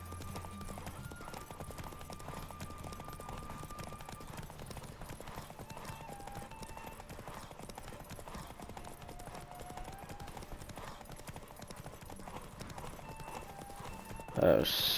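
Roach the horse gallops in The Witcher 3, a steady run of quick clip-clopping hoofbeats under game music and ambience, with a brief louder burst at the very end.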